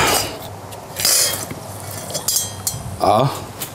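Roasted garlic cloves being worked out of their skins into a bowl, with scattered clinks and light scraping of utensils against dishware, a few sharper knocks near the end, and a voice talking through it.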